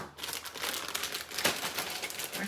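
A 20-ounce bag of dark chocolate crinkles steadily as it is handled and opened, a continuous close plastic rustle with a sharper crackle midway and no voices.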